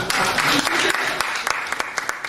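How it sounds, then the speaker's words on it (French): Audience applause at a talk on local languages and access to information, a brief spell of clapping with distinct individual claps standing out, fading slightly toward the end. "on peut applaudir pour vous"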